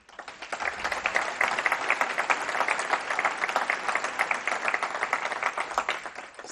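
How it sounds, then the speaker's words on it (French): An indoor audience applauds steadily at a mayor's 2015 New Year address, with dense, continuous clapping that swells quickly and holds at an even, loud level throughout. "Je pense qu'on peut les applaudir."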